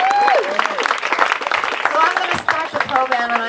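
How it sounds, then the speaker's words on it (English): Applause for Daniel Tam at a Democratic club summer celebration, with a voice talking over it. The clapping is blended with crowd murmur and speech throughout. "Let's give Daniel a round of applause."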